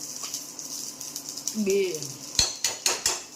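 Desi ghee sizzles in a pan for green coconut halwa: a soft hiss with a few spoon clinks and scrapes, growing busier toward the end.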